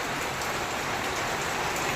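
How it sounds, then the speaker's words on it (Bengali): Heavy rain pours down in a dense, constant roar of drops striking surfaces, loud and unbroken throughout, with no voices. "বেশ জোরেই নামবে বৃষ্টিটা আবার"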